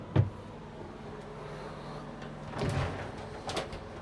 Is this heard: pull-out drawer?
yes